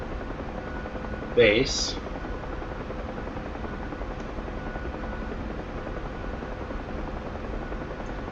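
UH-1H Huey helicopter in the DCS flight simulator, flying at speed: a constant droning rotor and turbine hum fills the whole clip, with a short burst of cockpit speech near the start.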